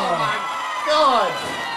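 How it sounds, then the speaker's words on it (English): A wrestling crowd roars and shouts in reaction to a slam onto thumbtacks, a loud, sustained surge of voices that swells midway and then holds steady. "And look at the reaction of the crowd"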